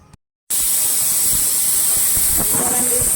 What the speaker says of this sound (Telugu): పప్పు విజిల్ అయితే వచ్చేసింది